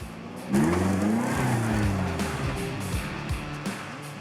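A car drives over a small hill, its engine revving hard and rising and falling in pitch as it climbs, with rumbling and bumps close by and no talking.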